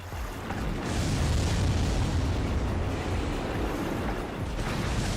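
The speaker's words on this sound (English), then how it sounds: "Oh, this is not the kind of large missile that I wanted." Large missile explosions in the video game Armored Core 3, merging into a loud, continuous roaring blast that fills the whole stretch with dense rumbling noise and barely fades.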